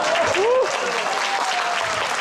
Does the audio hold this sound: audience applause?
yes